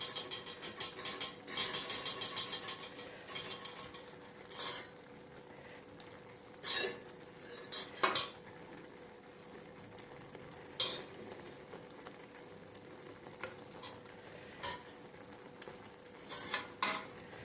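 Roasted eggs stirred into a Kerala-style pepper roast masala in a pan, a low simmering sizzle broken by irregular scraping and clinking strokes of the spoon, soft and close with no voices.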